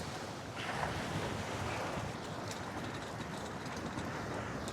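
Rough sea waves churn against a fishing pier at Point Lookout State Park, a steady broadband wash of surf mixed with gusting wind buffeting the microphone.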